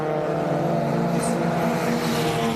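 MG Cup and MG Metro Cup race cars lapping the circuit during qualifying, their engines forming a loud, steady, droning roar with no pauses and no talk.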